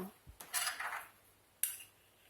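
A spoon scoops a thick dollop of semi-whole sesame purée (tahini) for hummus, giving a soft metallic scrape and a sharp clink against the jar or bowl, close and quiet with no talk.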